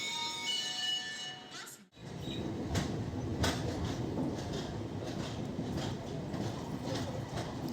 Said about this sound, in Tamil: இன்றைக்கி நான் ட்ராவல் பண்ண போகிற ட்ரெயின் வந்து இது தான், மைசூர் டு தூத்துக்குடி எக்ஸ்பிரஸ்